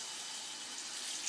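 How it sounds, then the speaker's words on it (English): Water runs steadily from a tap while soap is rinsed out of hair, a soft, continuous hiss heard alone for a brief moment. "when I rinse it out, I use warm water or cold water"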